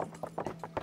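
Horse hooves clip-clopping in a medieval Kingdom Come Deliverance game, about five quick, soft, evenly spaced steps at close range.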